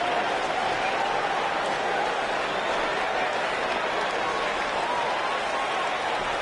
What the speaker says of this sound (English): There's still a live crowd here